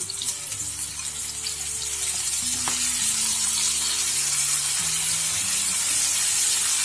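Tomatoes added to a hot frying pan with Izmir tulum cheese and Cretan zucchini cooking, producing a steady, loud, close sizzle with hissing crackle that continues throughout without talk.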